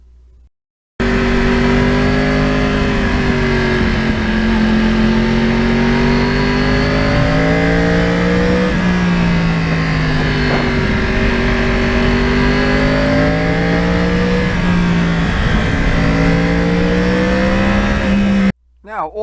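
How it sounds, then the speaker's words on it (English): A Yamaha R1 cross-plane motorcycle engine runs loud and close, its throbbing uneven-firing note rising and falling through several revs over a steady idle rumble. "that cross-plane sound is such a big part of the enjoyment you get from this motorcycle"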